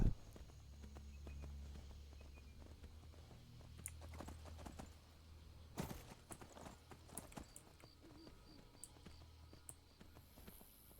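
A horse's hooves clip-clop steadily on the ground as a rider travels in the video game Skyrim, close and clear, with a few sharper knocks and faint background sounds.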